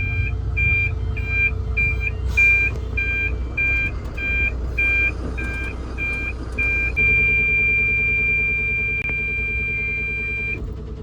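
A lorry's automatic parking sensor beeps in a regular, evenly spaced pattern while reversing, then switches to one continuous tone as an object behind draws very close, all over a low diesel engine rumble.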